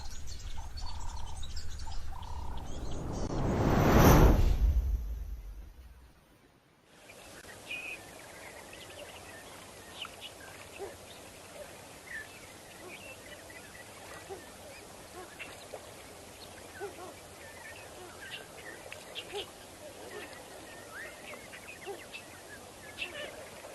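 Ducks quack and other birds call at a waterhole at Kamfers Dam, scattered faint chirps and quacks at a distance over an open outdoor hush, after a loud whooshing pass at the start.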